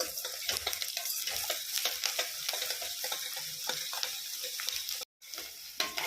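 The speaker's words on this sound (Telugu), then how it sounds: "అప్పుడు ఆనియన్స్ మంచిగా ఎర్రగా వేగిపోతాయండి" Sliced onions fry in oil with salt in a pan, a steady dense sizzle with scraping stirs throughout and a brief dropout near the end.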